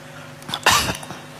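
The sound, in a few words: cough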